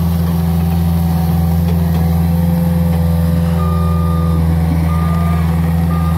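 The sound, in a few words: Caterpillar skid steer running with reversing beeps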